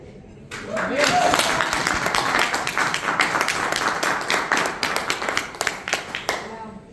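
Applause from an audience at a creativity workshop session, a dense patter of clapping that swells quickly and holds steady before thinning out toward the end, with a voice briefly heard over it.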